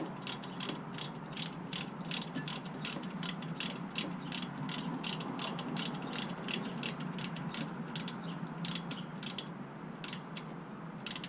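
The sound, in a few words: ratchet tightening BMW F30 rear brake caliper bolts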